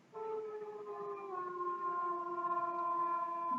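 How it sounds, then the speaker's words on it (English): Wolves howling in the distance on a dark, misty night among trees, several long overlapping sustained howls gliding and holding steady, fairly loud and alone. "wolves howled in the distance"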